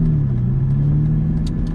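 An Aston Martin V12 engine drones steadily while the car is driven, a loud, close, even low hum with a faint rise in pitch over under two seconds, with no voices.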